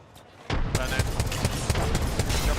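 Rapid gunfire and explosive bursts from grenades in the battle royale game Apex Legends during a competitive championship match, dense and continuous after a brief quieter opening, with sharp repeated impacts throughout.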